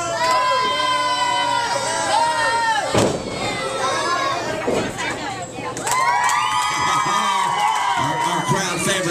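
Wrestling crowd at a live indoor match, cheering, screaming and chanting loudly throughout, with a brief sharp burst near the three-second mark and dense, overlapping voices rising again toward the end.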